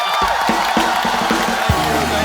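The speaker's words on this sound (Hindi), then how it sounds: "पहले रेमो सर के लिए जोरदार तालियां हो जाए" A studio audience on a TV comedy show cheers and claps loudly, a dense roar of whoops and shouts with rhythmic thumps underneath.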